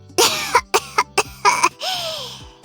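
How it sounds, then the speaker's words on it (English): A person coughs close by in a quick burst of about five sharp, harsh coughs, ending in a longer rasping throat-clearing hack. "You're coughing up a fucking storm."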